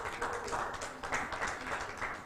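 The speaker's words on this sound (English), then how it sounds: "Let's give them a huge round of applause" Applause from an audience at a charity gathering, honouring a team from Kenya, comes as a steady wash of many hands clapping, distant and fairly soft, rising and falling slightly.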